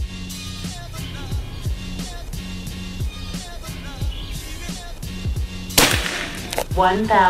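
Sharp shots from a PCP Predator Tactical air rifle with a folding stock, a series of crisp cracks and snaps spread across the span, plus one louder, brighter burst near the end, with outdoor background noise.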